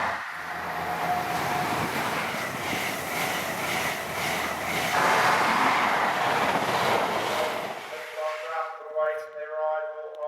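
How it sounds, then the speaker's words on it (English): A fast train rushes through a station platform in a loud, sustained roaring clatter that cuts off abruptly near the end, followed by a faint tonal ringing. "Fast train passing through."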